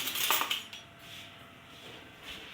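Metal spoon clinks against dishes in a home kitchen while rice is served, a brief cluster of close, bright clinks followed by quieter handling.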